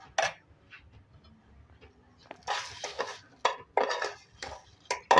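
Ghee-fried vermicelli is tipped into boiled milk in a pan, giving close clattering scrapes and metallic clinks of a spoon against the pan in short bursts, separated by quieter pauses.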